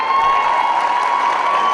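A high school graduation crowd cheers and shouts continuously for the class of 2014 graduates, a dense, loud wash of voices with a steady tone running underneath.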